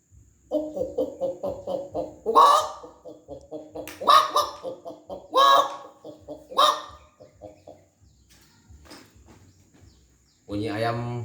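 A man imitates a rooster clucking with his voice. Quick, steady clucks are broken by several loud, harsh squawks, then fade into softer clucking. He is up close, with a brief burst of his own speech at the end.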